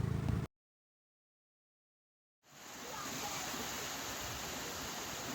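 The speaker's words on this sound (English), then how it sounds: "Now we are in the bottom of the Bambarakanda waterfall." Bambarakanda waterfall in Sri Lanka, 263 meters tall and running low in the dry season, gives a steady broadband rush heard from its base; it follows a short loud burst and about two seconds of silence, then holds evenly.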